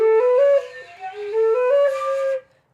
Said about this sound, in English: if you miss the holes, it's going to sound like this